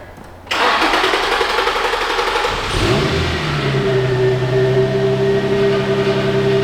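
An Infiniti G35 engine cranks and catches with a sudden loud start, settling into a steady running hum with a high whine, and no talking is heard.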